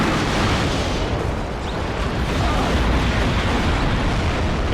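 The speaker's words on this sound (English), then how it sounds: "The rockets finding their way, missiles into the back of those Jaguars." Missile strikes in the WARNO war strategy game make a continuous, heavy roar of explosions, a loud dense rumble with no clear pauses across the whole stretch.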